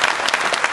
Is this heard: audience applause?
yes